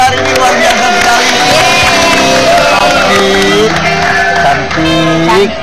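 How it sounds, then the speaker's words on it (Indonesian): A TV variety-show studio audience cheers and whoops for the guests, a dense, loud crowd roar with shouted voices and hoots sustained throughout, clapping barely distinct beneath it. "Tepuk tangan buat kita tamu kita hari ini luar biasa sekali."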